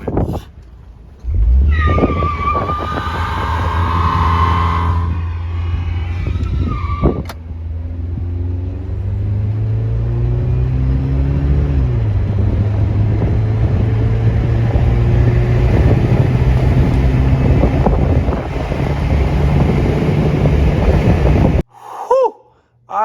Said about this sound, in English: let's time it 0 to 60 in the old 4-cylinder